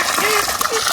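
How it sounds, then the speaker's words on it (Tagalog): Strong gushing water pours loudly and continuously on a farm, with a voice speaking over the rush. "Sobrang lakas ng tubig."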